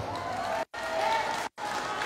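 An audience at a Malasakit Center launching event claps steadily in dense, continuous applause, broken by two brief cuts of silence.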